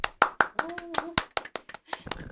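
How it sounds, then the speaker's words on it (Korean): Audience claps in a burst of sharp, irregular hand claps welcoming a presenter at a corporate smart-work webinar, close and fairly loud, with a brief voice and a tonal hum underneath. "박수로 한번 예, 맞아주실게요."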